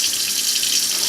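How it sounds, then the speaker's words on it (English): Cold tap water runs steadily from a faucet while fish are rinsed, a continuous close hiss of splashing water with no pauses. "It's best to rinse them off in cold water."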